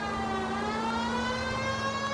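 A police car siren in L.A. Noire, a steady multi-tone wail held throughout with strong harmonics, loud and close over a low vehicle rumble, with no voices.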